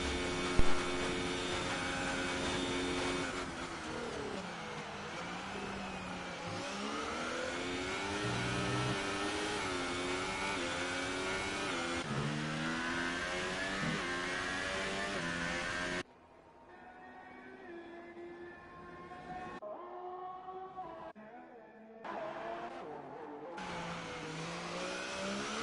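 A race car engine revs and accelerates on a track, its pitch climbing and falling through gear changes in a loud, sustained drone that drops away sharply and returns in shorter bursts.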